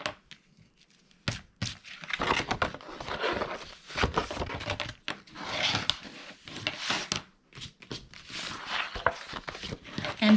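Scored cardstock for a handmade Valentine card being folded and burnished: repeated rubbing, creasing and crinkling strokes in irregular bursts, close by, with pauses of near silence between them and no talking.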